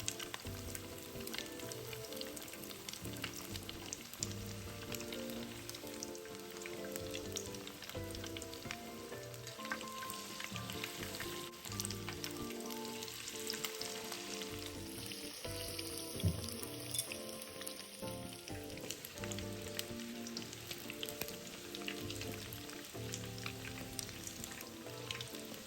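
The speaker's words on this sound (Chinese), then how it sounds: "炉一直保持中火，一直油炸至金黄色后才捞起" Tofu shrimp balls deep-frying in hot oil over medium heat until golden, giving a steady, dense crackling sizzle that runs unbroken throughout, close and even in loudness.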